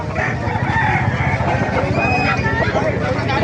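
Roosters crowing and clucking at a busy gamefowl market in Calumpit, Bulacan, loud and close amid a constant hubbub of crowd chatter and people talking nearby.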